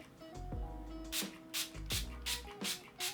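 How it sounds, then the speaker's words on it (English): Several short, crisp bursts of Too Faced Hangover 3-in-1 facial setting spray hiss close by in a quick, uneven series, separated by brief pauses. "I'm gonna spray my face using the Hangover 3-in-1 spray"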